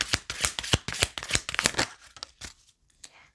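Rapid riffling of a tarot card deck, a quick run of crisp flicks that slows and fades into a few softer snaps at the end.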